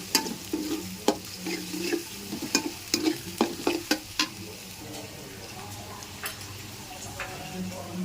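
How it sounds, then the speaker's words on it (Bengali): Onions fry in a pan with a steady sizzle, punctuated by repeated sharp clicks and scrapes of a utensil stirring against the metal. "পেঁয়াজ ভেজে নিচ্ছি"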